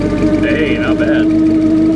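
A project car's engine with no choke, held at a fast idle of about 1,500 RPM, hums steadily and continuously up close, with someone talking over it throughout.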